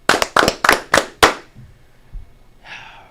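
Five sharp hand claps in quick, even succession, loud and close, followed by a short quiet tail with faint room noise.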